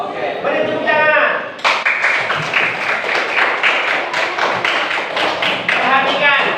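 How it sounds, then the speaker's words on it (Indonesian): A primary school class claps in sustained applause for several seconds, loud and close, with a few voices mixed in. "beri tepuk tangan"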